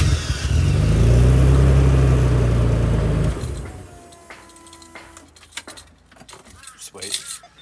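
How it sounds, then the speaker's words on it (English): A Nissan 300ZX slicktop engine idles loudly and close with a low steady drone, then shuts off after a few seconds with the turbo timer unplugged. Keys jangle and light handling noises follow in the quiet. "Let's see if the car will still run and turn off normally without the turbo timer plugged in"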